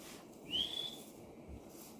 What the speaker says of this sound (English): I want her to stay there until I whistle